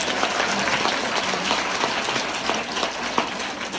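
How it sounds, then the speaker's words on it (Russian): Dense, sustained applause from an audience at a leadership meeting in Moscow, steady many-handed clapping filling the room for several seconds with no talk over it. "дайте аплодисменты для обратного"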